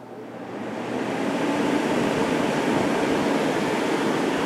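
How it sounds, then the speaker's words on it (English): A Climatrol Fedders 8,000 BTU window air conditioner runs its condenser fan on high, a steady, close, whooshing broadband roar that swells in over the first second and then holds even. "Most of the noise you're hearing is coming from the condenser fan"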